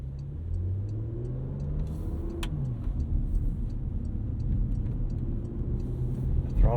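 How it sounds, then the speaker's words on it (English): 2022 Porsche Macan S idling at around 900 RPM in Sport Plus mode, a low steady engine rumble with a faint rhythmic ticking above it and a slight rise near the end. "let's step up our drive mode here to Sport Plus. Changed our idle speed slightly up to like 900 RPM."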